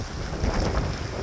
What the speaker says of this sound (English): So definitely wind's blowing pretty hard at this point